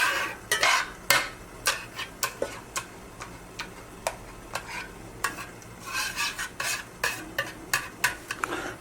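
Utensil stirring sauce in a pan to work out lumps, with repeated scraping clinks in an uneven rhythm over a faint background sizzle, close and moderately quiet, with no voices.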